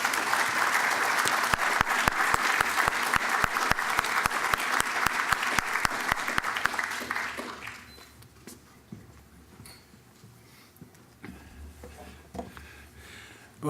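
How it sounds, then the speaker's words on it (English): An audience at an academic lecture applauds an emeritus engineering professor, brisk clapping for about seven seconds that then fades out, leaving quiet room sounds with a few faint shuffles. "Please give a hearty applause to David A. Ross, Distinguished Engineering Professor Emeritus, Arden Bement."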